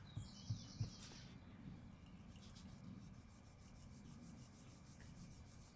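Brush rubbing ink onto a scrapbooking card: soft, close scratchy strokes in a quick rhythm at the start, then a faint continuous rasping scrub that carries on quietly.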